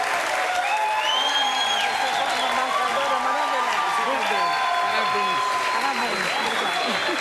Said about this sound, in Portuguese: eu gostaria agora de pedir o aplauso da nossa plateia para as duas embaixadoras